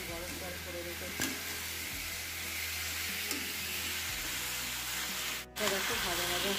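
Marinated meat fries in hot oil in a wok, giving a steady sizzle and hiss with occasional stirring clatters, close and fairly quiet.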